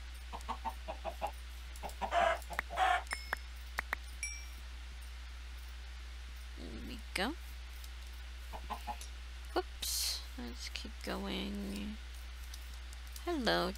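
Chickens cluck in a Minecraft-style game, scattered short clucks and squawks over a steady low hum, with a person talking intermittently.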